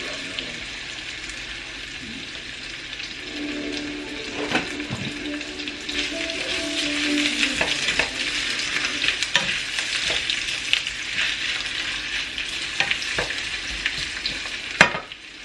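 Potatoes sizzle and fry steadily in a pan on the stove, with intermittent scraping and clinking of a utensil stirring them, close and continuous throughout.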